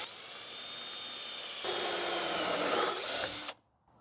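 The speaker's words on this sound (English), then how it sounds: "just slowly start drilling" A power drill whines steadily, grows louder and rougher as the hole saw bites in, then cuts off abruptly into quiet.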